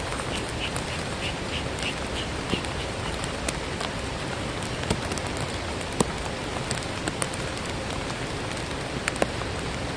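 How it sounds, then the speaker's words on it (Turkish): Steady heavy rain pours down continuously, a dense hiss with scattered louder drops and a faint quacking in the background. "Sağanak yağıyor."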